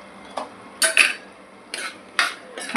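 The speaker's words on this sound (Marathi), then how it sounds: "आणि छान असे मिक्स करून घ्यायचं" A utensil scrapes and clinks against a pan while salted chicken mince is mixed, in several short separate bursts with quiet gaps between them, close and clear with no talking.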